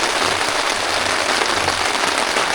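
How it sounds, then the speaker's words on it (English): Steady, dense rain drums on a backpacking shelter, a loud close patter that holds evenly throughout with no voices. "But the rain's not that bad,"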